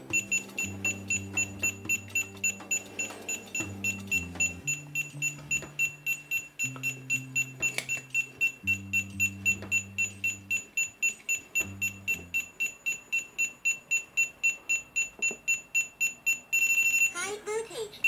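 Non-contact voltage detector alarm beeps in a rapid steady pulse throughout, with a faster burst near the end, while a melodic tone sequence plays underneath and a voice talks at times.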